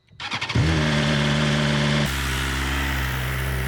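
A motorcycle engine cranks with a quick series of pulses, catches and settles into a loud, steady idle close by, then the tone shifts as the bike begins to ride off.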